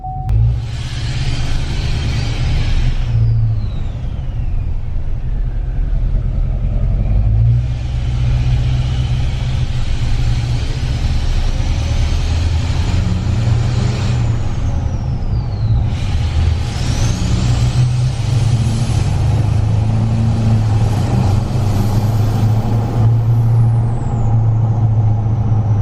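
A 2020 Duramax diesel truck drives down a short driveway while warming up, its engine a steady, loud low rumble throughout, with rising and falling whine and hiss layered on top.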